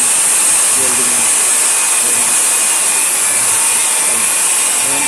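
Steady welding hiss and crackle from work on shafting, a loud constant broadband buzz holding without pause, with faint low voices in the background.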